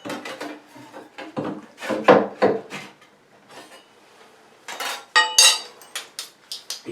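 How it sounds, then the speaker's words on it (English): A spackle knife scrapes and knocks as it pries a bathroom vanity away from the wall, giving bursts of wooden creaks, scrapes and light clatter separated by short pauses, close by with no talking. "put your spackle knife behind it, underneath here. Give it a little bit of a pry."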